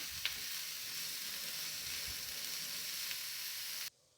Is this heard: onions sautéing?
yes